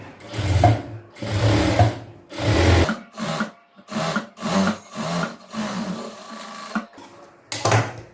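Sewing machine stitching a blouse lining, running in several loud, close bursts of rapid mechanical whirring separated by brief pauses.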